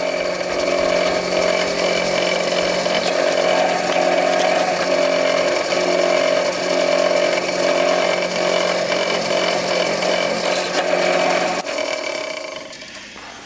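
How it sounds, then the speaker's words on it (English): A 1/4 inch drill bit boring out a hole in a bottle cutting jig: a steady, loud mechanical whir that runs without a break for about eleven seconds, then winds down and stops. "So I've got a 1/4 inch drill bit right here, and we'll drill out this hole."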